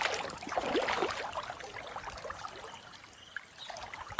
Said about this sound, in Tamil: ரொம்ப ஃபாஸ்ட்டாக தண்ணி போகுது.